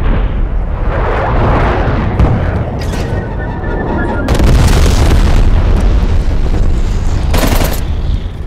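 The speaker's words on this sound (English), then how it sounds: "Enemy napalm strike incoming." A napalm strike in Call of Duty: Black Ops Cold War sends out loud, rolling explosions and a sustained fiery roar. Bursts of gunfire sound in the middle of the blasts and run on throughout.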